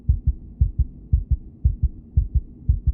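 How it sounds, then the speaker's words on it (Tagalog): A fast heartbeat sound effect thumps in steady lub-dub pairs, low and loud, about six double beats in three seconds with nothing else heard. "Ang bilis ng tibok ng puso mo."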